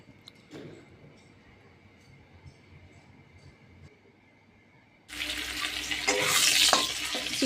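Chicken cooking in a little oil: after about five seconds of quiet kitchen background, a loud, steady sizzle and frying hiss rises and continues to the end.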